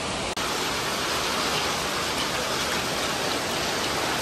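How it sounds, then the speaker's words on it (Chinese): Heavy rain pours onto a flooded street, a dense, even hiss of falling water that stays steady and loud throughout with no voices. "很不方便的下雨，你看一下"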